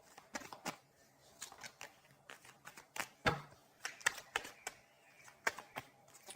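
Irregular bursts of tarot card shuffling, with crisp riffles and soft slaps spaced unevenly, close by and otherwise quiet.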